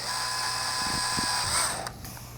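A drill bores slowly into PVC pipe while fitting air valves for a fishroom's central air system, giving a steady whirring, grinding hum with faint clicking. It runs continuously, close and fairly loud, then cuts off near the end.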